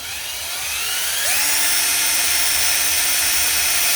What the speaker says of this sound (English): Put it in your drill.